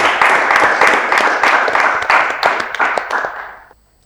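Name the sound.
audience applause for winning quiz team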